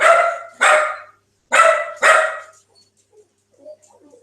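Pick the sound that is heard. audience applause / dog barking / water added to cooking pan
dog barking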